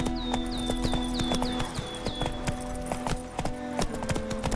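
Roach the horse from The Witcher 3 video game, hooves clopping in a steady, quick gallop rhythm over a continuous game ambience and music, close and moderately loud throughout.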